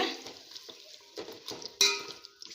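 Yogurt being sautéed with onions in a pan for ghee rice, giving soft stirring scrapes and light sizzling in a few short bursts, one sharper clatter near the end, close and fairly quiet.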